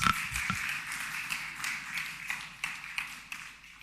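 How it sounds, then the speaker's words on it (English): Audience applause at an academic conference session, a crowd clapping steadily with scattered sharper claps standing out, fairly close and fading toward the end. "let's give him another round of applause"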